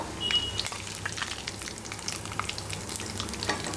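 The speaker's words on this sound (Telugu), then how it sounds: "ఈ గరం మసాలా యాలకులు దాల్చిన చెక్క లవంగాలు మిరియాలు జీలకర్ర షాజీర వేయాలి ఇవి కాస్త ఫ్రై అయినాక" Whole spices such as cardamom, cinnamon, cloves, pepper, cumin and shahi jeera fry in hot oil, making a soft, continuous crackle and sizzle with scattered light pops. No voices are heard over it.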